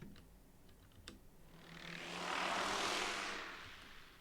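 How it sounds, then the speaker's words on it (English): Propeller aircraft in a naval video game passing overhead, its engine drone swelling from faint to loud and then fading slightly as it flies over. "That was a loud plane."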